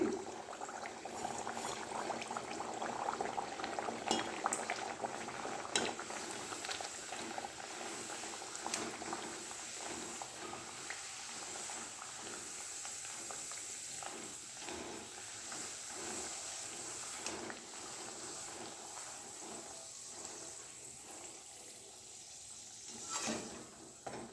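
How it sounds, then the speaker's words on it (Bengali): Kochuri deep-frying in refined oil, a soft continuous bubbling and crackling fizz with scattered pops, faint and steady, no talk. "দেখো আমি দিচ্ছি রিফাইন অয়েলে, দিলাম তেলে,"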